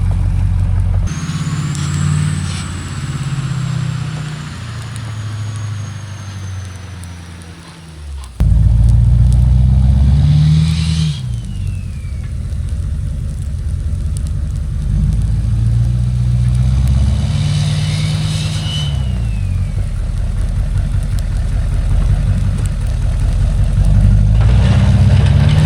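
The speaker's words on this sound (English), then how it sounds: "she's a 2014 Duramax turbo, new head studs, 5-position tuner of some flavor" A 2014 Duramax turbo diesel pickup with new head studs and a tuner, plowing snow after an ice storm in upstate New York: a steady, close diesel drone that dips, then surges back louder and holds with shifting engine tones.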